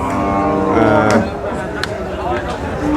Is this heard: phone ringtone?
no